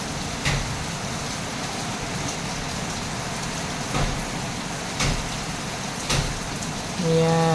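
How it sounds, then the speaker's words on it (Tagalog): Heavy rain pours down in Quezon City, a steady, dense hiss of water striking surfaces, with a few louder drips and knocks popping out now and then. "Ayan, malakas pa rin ang ulan."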